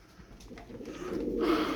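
Soft, low cooing of tumbler pigeons close by, a gentle throaty murmur rising slightly toward the end, with faint rustling.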